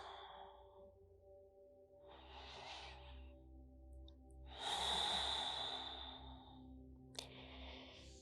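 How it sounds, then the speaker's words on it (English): Slow, deep breathing during a yin yoga session, with several long, soft inhales and exhales in turn, close and breathy over a low steady hum. "Just take a couple of nice deep inhales and exhales."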